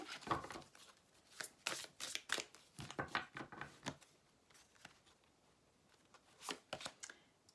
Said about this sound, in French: Allez, on va prendre une carte conseil.